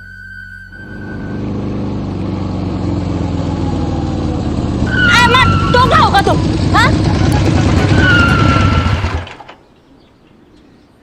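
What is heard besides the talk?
motorbike engine running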